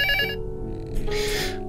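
Telephone ringing in the video game Luto: a short, bright, tonal ring that breaks off, then a hissy burst follows, with no voices over it.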